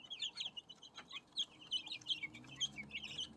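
Several white chickens cluck and chirp softly in a brooder on a livestock farm, sitting alongside a duckling, with scattered short calls at an even pace, fairly close but quiet.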